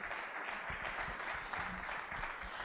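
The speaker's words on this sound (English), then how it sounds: "ladies and gentlemen, please give him the biggest round of applause" Sustained round of applause from a large seated audience at a corporate talk, steady dense clapping throughout at even volume, with no speech over it.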